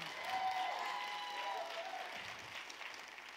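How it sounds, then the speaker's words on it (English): An audience at a keynote event claps, a soft burst of scattered applause that swells briefly, then thins and fades over a few seconds, with faint voices underneath. "Just clap if you know I mixed them"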